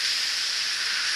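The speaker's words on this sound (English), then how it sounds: "you just hear the output of steam" Steam hissing from a stopping train, a loud, continuous, even airy hiss held steadily from start to finish with no other sounds.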